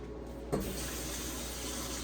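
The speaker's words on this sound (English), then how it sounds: "and then pour it over the ice, and then add more water" Water from a tap pours into a cup over ice, a steady close rushing stream that begins with a brief splash and continues evenly, with no talking.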